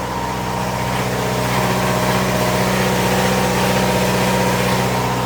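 An Onan DJC generator runs steadily under a load bank, a loud, even mechanical drone with strong low harmonics that holds constant throughout, with no talk.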